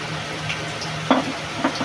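Oil heats in a hot kadai, a constant soft sizzle broken by a couple of sharp utensil clinks against the metal wok.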